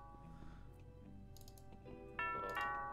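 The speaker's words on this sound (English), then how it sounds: "That sounds like the doorbell." A doorbell rings in the video game Thimbleweed Park, a bright multi-tone chime that rises out of soft background game sounds and ticking, then sustains near the end; no one talks over it.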